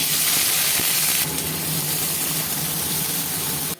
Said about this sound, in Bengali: তেল গরম হয়ে গেছে ফোড়নে দেবো পেঁয়াজ কাঁচা লঙ্কা